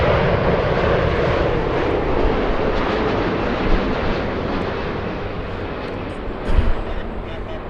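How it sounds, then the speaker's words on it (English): A China Airlines airliner from Taipei at LAX produces a steady, broadband jet roar that stays loud and fairly close throughout, with faint voices underneath. "China Airlines, right in front of us from Taipei."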